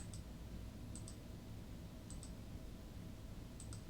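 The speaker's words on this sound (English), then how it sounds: "Double left click to start, single left click to save our progress." Pairs of crisp computer mouse double-clicks repeat about once a second over a faint steady hiss, close and fairly quiet, while making cuts on a virtual dental mock-up around the teeth.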